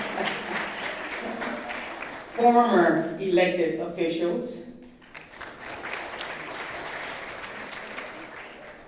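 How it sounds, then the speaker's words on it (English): Applause at a community essay contest ceremony rises in the latter half as a broad, even patter under and after a speaker reading out acknowledgements over a microphone. "Let's clap."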